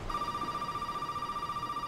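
A phone rings in the horror video game Resident Evil 7, sounding as a steady electronic trill that holds a single pitch for about two seconds over a low background hum, with no talking.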